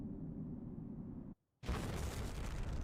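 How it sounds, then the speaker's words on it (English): A big explosion in an anime fight episode gives a sustained, loud roaring rumble, a sudden cutout to near silence, then an even louder hissing blast that fills the rest, with no talking. "Big explosion."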